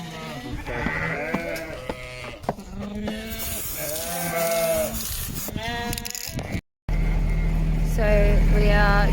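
Ewes are led out to pasture, bleating repeatedly at close range, with overlapping calls from several sheep, a vehicle rumbling in the background and people talking.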